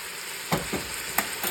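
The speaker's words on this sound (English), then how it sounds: "let it saute for just a minute or 2" Green pepper and minced garlic sauté in a hot pan, giving a steady close sizzle broken by a few sharp scrapes and stirs of the utensil against the pan.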